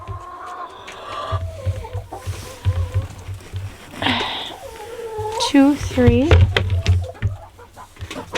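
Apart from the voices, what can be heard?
chickens clucking in the coop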